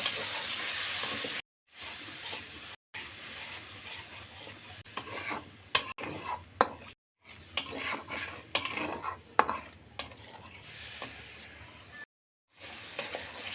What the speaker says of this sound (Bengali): আমি একটু জল দিয়ে সর্ষেগুলো কষিয়ে নেব